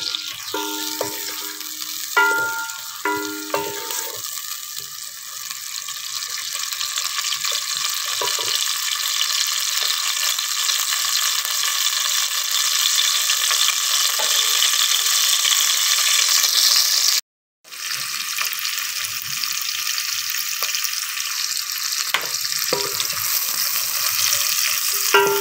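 Onions sautéing in a pan for a bhindi piyaz (okra and onion) dish, a loud, steady close-up sizzle with occasional stirring clatter early on and one brief break before the frying resumes.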